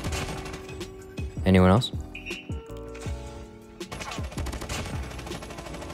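An RUS79U fires in Call of Duty Mobile, with quick bursts of close automatic gunfire, one loud volley and scattered shorter strings, while a player briefly talks.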